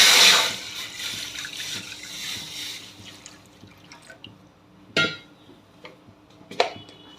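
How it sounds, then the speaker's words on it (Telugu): A short burst of water splashes into a metal kadai on a lit stove at the start, for banana stem curry, followed by quiet drips and a couple of light clinks. "నీళ్ళు పోసుకోవాలి."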